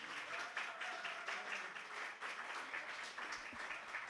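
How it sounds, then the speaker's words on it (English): An audience at an evening arts showcase claps after a live band performance, steady, dense applause that stays fairly quiet and distant throughout. "Round of applause, everybody. Keep it going,"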